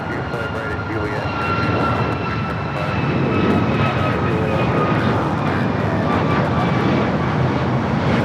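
An American Airlines heavy airliner's jet engines roar steadily at LAX, a broad rumble that swells louder about a third of the way in and holds, with talk faintly underneath.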